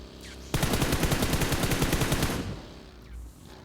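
Automatic gunfire in the mobile battle royale game PUBG Mobile rattles in a rapid, steady, loud burst lasting about two seconds, then cuts off into quieter game ambience.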